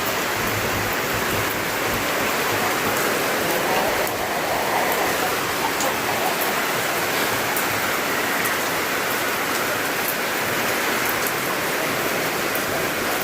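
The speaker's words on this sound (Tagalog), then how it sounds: "Lakas ng ulan." Heavy rain pours steadily on a new roof, a dense broadband hiss with water splashing on surfaces and running through a gutter and downspout, continuous and loud throughout.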